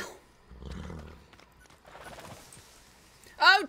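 Horse in a RedM roleplay game, with hoofbeat clip-clops in the middle and a sharp, loud whinny bursting out near the end; a speaking voice is heard faintly in between.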